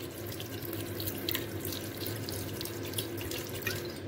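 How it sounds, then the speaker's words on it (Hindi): About a cup of water pours from a tap into a pressure cooker pot of minced baby food cooked with desi ghee, a steady close splashing rush with no talk. "तकरीबन 1 कप मैं इसमें पानी डाल रही हूँ"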